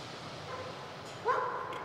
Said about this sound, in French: il s'est mis à aboyer dans ma direction en tirant sur sa laisse